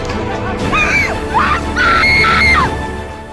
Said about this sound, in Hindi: चारों ओर चीख पुकार मची हुई है।